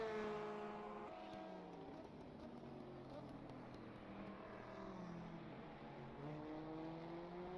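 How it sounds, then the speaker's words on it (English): Aston Martin V8 race car engine droning steadily at a distance under continuous race commentary at a GT endurance championship round. "You can hear that V8 of that Austin"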